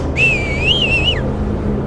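A single clear whistle, a high wavering tone lasting about a second before sliding down and stopping, over low background hum.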